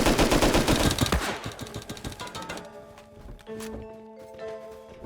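Shotgun traps in the game Rust are destroyed by dense automatic gunfire, a loud, close rapid burst lasting over two seconds, then tapering into scattered thuds, footsteps and lingering ringing tones.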